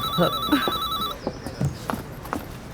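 A telephone rings with a warbling electronic trill, then stops, followed by a few soft knocks and clicks nearby.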